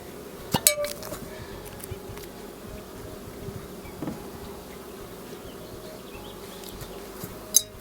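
Carniolan honey bees from a newly installed package swarm around their hive, making a steady close buzz throughout, with a few sharp clinks and taps of equipment near the start and end.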